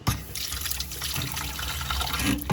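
Water pours steadily into a cooking pot for steaming coconut crabs, a continuous splashing stream that runs the whole time with no talking.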